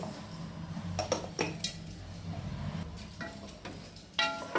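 Salt, turmeric and asafoetida being stirred into pongal in a pot with a spoon, scattered close metallic clinks and scrapes between quieter stirring, no speech.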